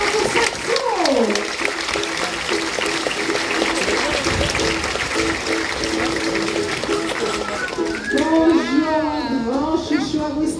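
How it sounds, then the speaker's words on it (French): Crowd applause rolls steadily through a California sea lion show, with a continuous wash of clapping under a loudspeaker voice and whistle-like calls near the end. "encore un applaudissement pour Saxo"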